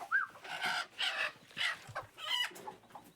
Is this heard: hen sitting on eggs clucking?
yes